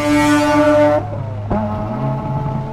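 Mazda RX-8 on a race track letting out an exhaust fireball: a loud, steady engine drone cuts off abruptly, followed by a sharp bang-like crack and the engine resuming at a lower, rougher note.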